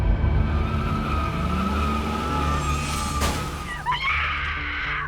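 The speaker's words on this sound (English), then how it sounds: "It sounded like, a huge, horrible wreck and an enormous crash. And then the scream, that high, blood-curdling scream." Rumbling car wreck with screeching and a sharp crash burst, followed by a rising, high-pitched scream near the end, loud and dramatic over a steady low drone.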